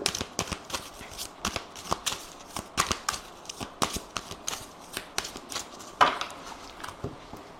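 Aphrodite oracle and tarot cards are shuffled in a steady run of crisp riffling slaps and soft flutters, close and fairly quiet, with no voices.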